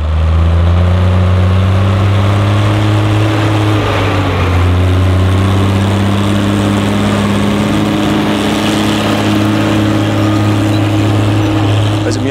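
A Schlüter 1250 Super VL Spezial tractor rated at 130 hp idles close by at an outdoor Schlüter field day, a steady deep diesel drone with strong low harmonics held throughout and no pauses.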